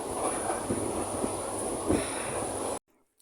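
Passenger train pulling out of Dhaka bound for Chattogram, a steady loud rumble of wheels and carriage with a high whine, running continuously before cutting to near silence at the end.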